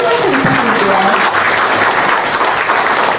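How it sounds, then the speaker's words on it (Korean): Party members applauding at a Daejeon members' meeting in Yuseong Cultural Center, dense sustained clapping from a large indoor crowd, loud and continuous throughout. "다시 한번 큰 박수 부탁드릴게요."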